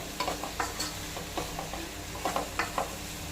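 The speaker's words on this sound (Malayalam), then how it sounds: "നല്ലപോലെ തന്നെ ഇളക്കി യോജിപ്പിച്ച്" Chicken pulao being stirred in a pot, a spoon scraping and turning the rice in repeated short strokes over a soft steady sizzle, close and fairly quiet with no voices.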